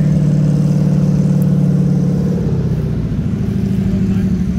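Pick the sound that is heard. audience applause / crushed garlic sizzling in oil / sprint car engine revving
sprint car engine revving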